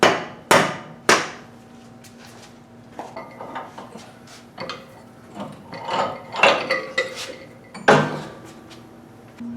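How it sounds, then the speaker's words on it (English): A rubber mallet whacks a shock bushing into a Chevy/GMC control arm, several loud, sharp impacts spaced irregularly with quieter clunks and handling noises between them. "Whack this down with a rubber mallet here."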